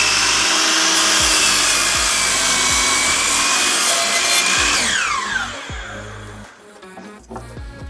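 A miter saw trims the end off a clamped wood piece in a workshop: a loud, steady whining cut that holds for several seconds, then the blade spins down and the motor fades out.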